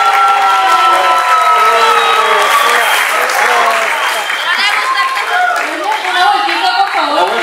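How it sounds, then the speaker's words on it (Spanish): Loud, dense audience applause at a cosplay contest, sustained clapping mixed with crowd cheering, under a tonal musical backdrop throughout. "Un gran aplauso."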